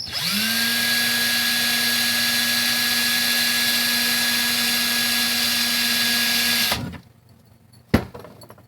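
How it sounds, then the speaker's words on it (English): A power drill whirs steadily at high speed for several seconds, then stops abruptly, followed by a brief clunk. "see if we can't use the drill here"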